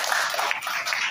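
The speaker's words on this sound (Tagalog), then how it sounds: "Isang malakas kong palakpak." A church audience gives a short burst of dense, continuous applause, many hands clapping together at once.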